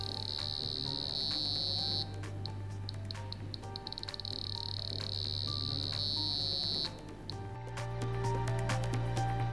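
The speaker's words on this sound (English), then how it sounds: "The beep changes according to the frequencies" A steady high-pitched electronic beep from a Sedatelec Premio 32 EVO laser device sounds, stops, returns, then shifts to a different tone alongside rapid clicking, loud and close.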